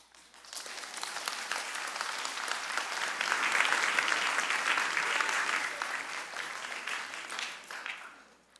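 A convention hall audience breaks into sustained applause after a vote carries, many hands clapping densely and steadily, swelling in the middle before tapering off.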